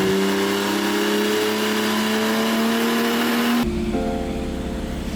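A tuned car on a dyno revs hard, its engine note climbing steadily in a loud, continuous drone before abruptly cutting off and falling to a lower, rougher idle-like hum for the last second and a half.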